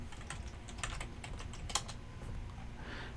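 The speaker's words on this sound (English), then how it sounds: "just type remote desktop" Quick, light keystrokes patter on a computer keyboard in a short run, close and soft, with a single louder key press near the middle.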